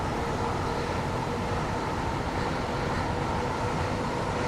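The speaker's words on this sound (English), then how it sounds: "come on train, I'm relying on your quick acceleration to get us to Gillingham on time" A Class 465 electric train accelerates in Train Sim World 2, giving a steady, loud rumbling cab drone with constant rail and motor noise and no break throughout.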